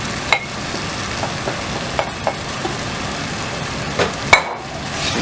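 Previously cooked chicken is stirred into masala in a handi pot, with a spoon scraping and knocking in irregular strokes over a steady sizzle from the pot.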